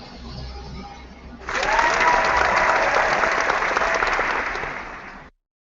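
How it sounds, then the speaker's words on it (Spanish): A crowd at a public proposal event on education and governance breaks into sustained applause, many hands clapping loudly and evenly for several seconds after quiet murmuring, then cutting off abruptly. "Vaya con los aplausos."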